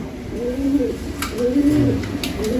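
Pigeons in a loft and aviary coo in steady, overlapping rolling phrases, fairly close and continuous, with faint high chirps and light background noise.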